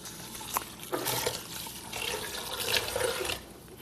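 Ten cups of water pour steadily from a pitcher into a soup pot for black-eyed pea soup, a close, continuous splashing with brief surges.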